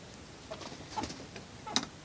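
Young and adult hens pecking and clucking softly in a coop during feeding, a few short faint clucks and taps spaced irregularly, no talk.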